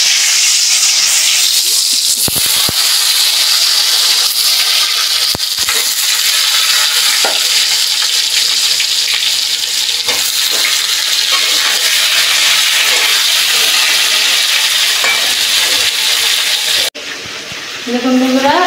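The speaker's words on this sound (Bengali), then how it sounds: "আমি এখন পটলটা ভেজে নিব।" Pointed gourd (potol) frying in hot oil, a loud continuous sizzle with occasional scraping stirs against the pan, nearby and dominant before cutting abruptly near the end.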